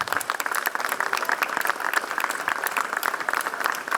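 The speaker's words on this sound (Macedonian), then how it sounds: "би ве замолил сите да дадеме еден аплауз" Sustained audience applause at a Macedonian political gathering, many hands clapping in a dense, even patter that holds steady throughout with no speech.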